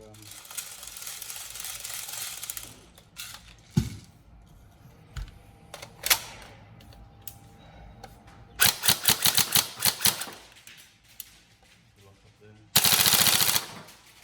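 An upgraded Tokyo Marui M4 CQB-R NGRS airsoft rifle in tan, fired in several rapid bursts of sharp mechanical cracks. The shots come in clusters with short pauses, close and loud, and a voice talks between the bursts.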